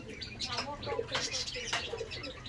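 Pigeons close by, Andhra breed, coo softly while brief wing flaps and rustles come and go, with a faint voice in the background.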